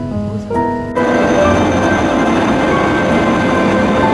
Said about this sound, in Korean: 우리가 탄 기차는 서서히 출발하기 시작했다.